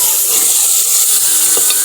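Spice tadka sizzling loudly in a pan for a radish curry, a dense continuous hiss close up with faint stirring and no voices.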